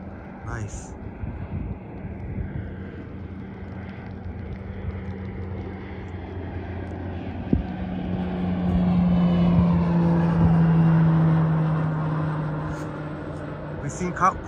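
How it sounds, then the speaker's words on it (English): An airplane passes over downtown Toronto, its low engine drone swelling louder toward the middle and then fading, heard amid steady city background noise and some talk. "We've seen quite a few planes on this live stream."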